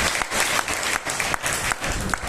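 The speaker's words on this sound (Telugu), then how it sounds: "ఒకటి చప్పట్లు" Applause from an audience at a Christian prayer meeting in a meeting hall, a dense steady burst of many hands clapping together, fairly loud and close, running the full length with slight swells.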